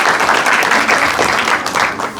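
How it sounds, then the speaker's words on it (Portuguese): A church congregation applauding after the preacher's sermon, loud close clapping from many hands that swells and dips slightly before tailing off. "Aplauda o Senhor Jesus na hora do seu servo"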